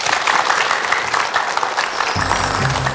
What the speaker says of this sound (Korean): 힘찬 박수로 청해 듣겠습니다.